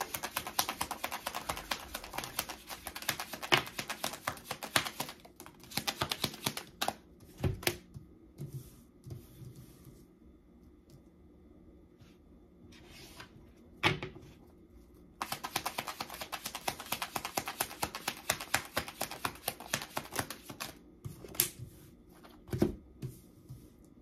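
Tarot cards are handled and shuffled close up in two long stretches of rapid, crisp riffling and flicking, with a quieter pause of soft handling in between.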